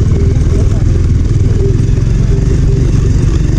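250 cc motorcycles riding on a rural road in Nepal, a loud close engine drone with a throbbing low rumble and a steady clattering pulse, with voices talking over it.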